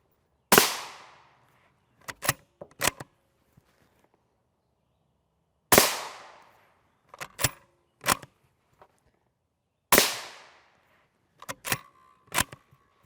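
Rifle rounds, M855 and M855A1, striking a 6B43 Granit Russian body armor plate, heard as three separate sharp gunshot cracks with decaying tails, each followed by a scatter of short metallic clicks and knocks.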